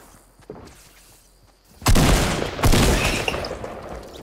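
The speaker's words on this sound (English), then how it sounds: "I hear a gunshot." Gunfire in the Fortnite video game: after a quiet stretch with faint thumps, a loud burst of shots erupts, followed by a second blast and a trailing echoing rumble.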